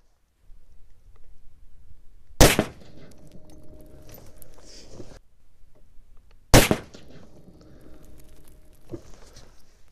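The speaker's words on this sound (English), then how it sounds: "So we're gonna punch you guys downrange, shooting through a chronograph at 100 yards" Two sharp, loud rifle shots from a T/C Compass .308 firing 168gr A-Max loads at a 100-yard range with a chronograph, about four seconds apart. Each crack is followed by a rumbling outdoor echo and quiet handling noise.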